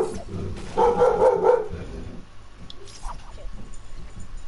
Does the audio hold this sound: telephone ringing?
no